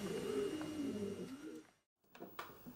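Pigeons or doves cooing in a low, warbling run, fairly close and steady, broken by a short pause and a few fainter calls at the end; no talk over it.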